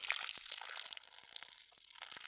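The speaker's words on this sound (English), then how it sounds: "So I'm just going to pour the majority of the water out." Water sloshes and trickles as it is poured out of a Central Machinery rock tumbler barrel holding stones in sludgy slurry, faint and close, with small gritty crunches and drips scattered through the steady flow.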